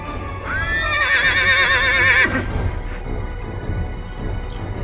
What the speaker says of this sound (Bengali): ঘোড়া,